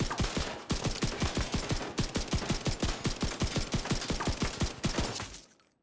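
Loud, rapid automatic gunfire from The Division 2 video game, a long string of evenly spaced shots ringing out close and unbroken for several seconds before cutting off.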